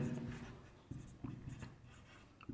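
A pen writes by hand on paper in quiet scratchy strokes with a few soft taps, faint and close, and no one speaks.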